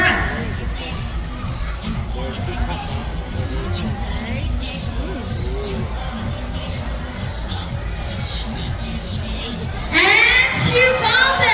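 Crowd at a bird show at Manila Ocean Park shouts and cheers encouragement in a steady, loud babble, swelling into a brighter burst of excited voices near the end.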